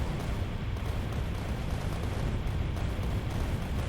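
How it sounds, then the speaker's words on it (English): Rocket explosions in the game Factorio form a dense, continuous low rumble of overlapping blasts, steady and loud throughout with no clear gaps or talk. "You can fire a bunch of rockets while they're still inside there and they get hit by the explosions."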